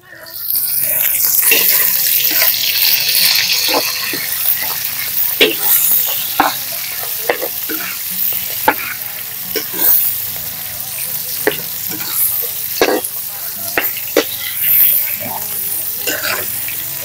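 Onions sautéed with carabao meat in a pan, a loud sizzle bursting up at the start and then settling, broken by repeated sharp scrapes and taps of a spatula against the pan, close up.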